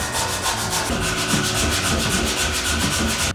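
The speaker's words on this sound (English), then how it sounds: "Switch out to a little bit more finer sandpaper." A homemade wooden climbing hold being rubbed with fine sandpaper, quick regular back-and-forth scratching strokes, close and continuous with no talk.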